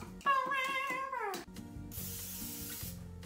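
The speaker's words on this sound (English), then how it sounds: "Spray 9-inch pie dish with gluten-free cooking spray." Gluten-free cooking spray hisses onto a 9-inch pie dish in a short burst lasting about a second, following a cat's loud meows.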